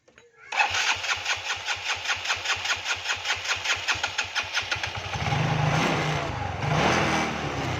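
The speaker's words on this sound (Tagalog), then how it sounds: "yung ganung tunog ng makina, ibig sabihin hard starting yon" A hard-starting engine cranks with a rapid, rhythmic chugging for several seconds, then catches and runs with a rough, uneven idle.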